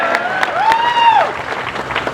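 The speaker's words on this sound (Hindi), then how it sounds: "जरा जोरदार तालियों से।" An election rally crowd applauds in a burst of clapping. A whistle-like tone rises and falls over it.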